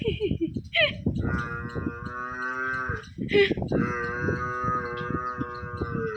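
On a farm, a cow gives two long, loud, drawn-out moos, close by, while people talk and make rustling noises underneath.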